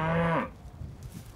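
A cow on a small Kenyan farm gives a single clear moo up close, a falling drawn-out call that ends abruptly and leaves quiet farmyard background.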